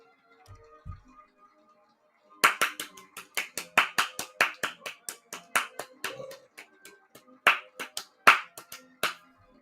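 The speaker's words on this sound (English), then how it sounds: "Give us a round of applause." Audience applause during an inauguration celebration for President Joe Biden: a burst of clapping starts after a quiet moment and continues with uneven, lively bursts, fairly close and loud, with brief pauses and swells.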